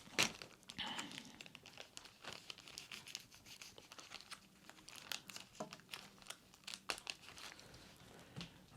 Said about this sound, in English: I think this one, I'll just cut the tape.